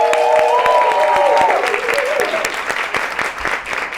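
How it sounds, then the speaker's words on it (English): A studio audience on a television talk show breaks into applause, loud at first and then tapering slightly, with a brief melodic tone near the start and some voices mixed in. "Let's clap it up for that."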